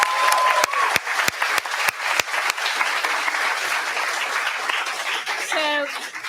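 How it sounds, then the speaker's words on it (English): A crowd at a barista competition applauds the competitors in a loud, steady wash of clapping that starts with a few sharp claps and runs for several seconds, with a brief whistle near the end. "one last round of applause for all our competitors"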